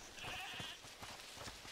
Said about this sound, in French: c'est la chèvre du monsieur. Tramontane, oui. Elle est là derrière.